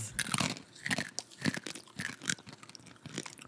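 Several sharp crunches from people biting into very dark, heavily roasted coffee beans, brittle cracking bursts repeating in quick irregular succession, close and fairly loud, with no talking over them.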